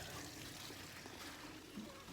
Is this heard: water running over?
yes